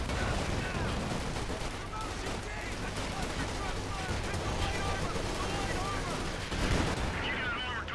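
Battlefield gunfire in the strategy game Company of Heroes 2: a sustained rattle of rifle and machine-gun fire with occasional heavier blasts, steady throughout and partly under talking voices.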